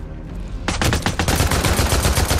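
Loud, rapid automatic gunfire erupts after a brief quiet moment in Days Gone, a continuous burst of close shots aimed at a sniper, sharp and evenly spaced until the end.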